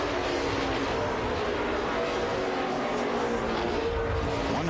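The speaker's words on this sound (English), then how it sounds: "Everybody seems like they're smoking that right front going into that turn over there." NASCAR Cup cars at Sonoma roar through a turn, their engines droning continuously at a distance while tires squeal intermittently under faint commentary.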